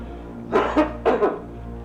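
Two quick pairs of harsh coughs, close and fairly loud, over a low steady hum.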